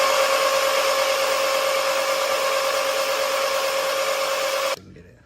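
A Tasaca T500-V58 electric motorbike motor revs under throttle, giving a loud, steady high-pitched electric whine that holds for nearly five seconds, then cuts off abruptly into quiet.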